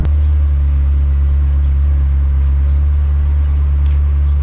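Ferrari 360 engine running, a loud, steady low droning hum held without change, with no revving or talk.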